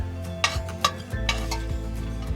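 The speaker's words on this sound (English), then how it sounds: "I'm going to stir it a little bit" A spoon scrapes and clinks against a pan as quinoa is stirred over high heat, several sharp knocks over a low steady sizzle, close and alone.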